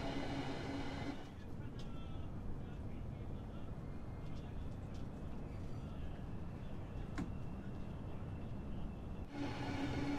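Train Sim World 4 game audio of a Class 395 ITX-Saemaeul train running, a steady low rumble and rolling noise throughout with faint mechanical clicks, loud and continuous.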